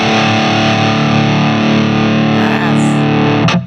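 An audio signal pushed through heavy gain-boosted distortion, a loud, dense, saturated tone holding steady for a few seconds before cutting off abruptly near the end.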